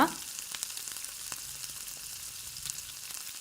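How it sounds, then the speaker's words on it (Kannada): Chopped jackfruit pieces fry in hot oil in a pan, a steady close sizzle with a few sharp crackles and pops, no voices. "ಹಲಸಿನ ಸೊಳೆಯನ್ನು ಹೆಚ್ಚಿಟ್ಟಿದ್ದೇನೆ ಅದನ್ನು ಹಾಕಿ ಒಂದೆರಡು ನಿಮಿಷ ಹುರಿವ"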